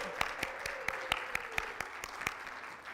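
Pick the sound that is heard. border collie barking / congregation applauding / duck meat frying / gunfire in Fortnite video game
congregation applauding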